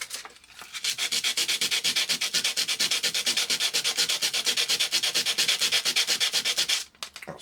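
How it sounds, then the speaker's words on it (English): Sandpaper rubbed by hand over an oxidised heatsink from an old ZX81 computer gives a fast, rhythmic rasping of regular back-and-forth strokes, loud and close, then stops abruptly near the end. "if I've got a bit of sandpaper or something, I'll just give that a quick"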